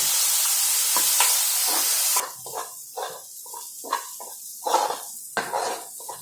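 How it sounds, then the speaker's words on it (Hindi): Onions fry in a pan until golden for spinach curry: a loud steady sizzle fills the first two seconds, then gives way to softer crackling and intermittent stirring scrapes and clinks close by. "इसको अच्छे से गोल्डन होने तक भूनेंगे हम।"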